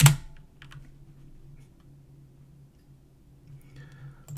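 Keyboard typing at a computer: a few light, quick key clicks near the start over a steady low hum, then a faint cluster of taps near the end.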